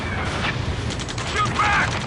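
Gunfire in the Ace Combat 7 game during a ground firefight: bursts of rapid mechanical shots and clatter over a dense noisy background, with a brief tonal effect near the end.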